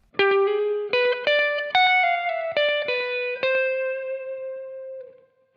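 A slow blues lick played on electric guitar through distortion, with about eight clearly separated notes bending and sustaining, the last note ringing out and fading, played alone with no talk.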